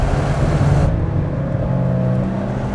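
A 2017 Nissan Sentra NISMO engine revs on a downshift, a loud, steady mechanical drone close by with a sustained hum that stays strong throughout, no talking.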